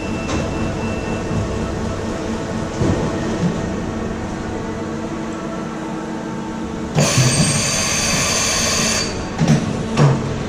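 A Hartford PBM135A CNC horizontal boring mill with a 50-horsepower, 4-speed gearbox moves to its tool change position, a steady mechanical hum and whine with a louder grinding surge near the end and clunks, no talk.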